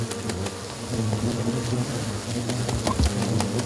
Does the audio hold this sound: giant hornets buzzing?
yes